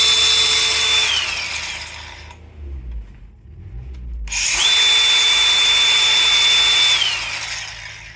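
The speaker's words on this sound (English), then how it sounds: "So what I need to do is take the grinder," A bench grinder sharpening a drill-like point on a Honda Z50 fork part gives a loud, steady high whine in two long bursts, separated by a quieter gap with lower rumbling.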